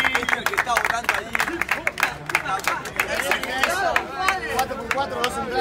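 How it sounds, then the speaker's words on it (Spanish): Applause and clapping from a crowd at a rap battle qualifier, with lively chatter and voices mixed in throughout. "Fuerte el aplauso para Luis Parry."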